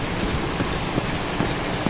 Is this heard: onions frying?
no